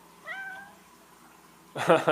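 A cat gives a short, high meow early on, then a brief, louder burst of sound follows after a quiet pause.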